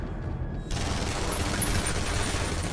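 A sudden volley of gunfire erupts in a Wolverine action movie scene, a dense, sustained burst of rapid shots that begins abruptly after a quieter moment and continues loudly to the end.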